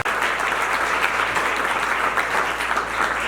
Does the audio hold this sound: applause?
yes